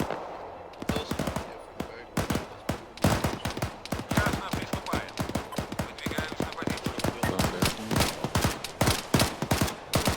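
Rapid bursts of automatic gunfire and single shots from militia in an online shooter game crack in a dense, continuous volley at close range, with a few quieter gaps between the loud reports.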